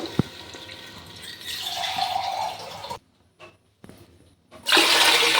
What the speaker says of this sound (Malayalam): അപ്പോൾ ഇതിലേക്ക് 2 കപ്പ് വെള്ളം ഒഴിക്കാം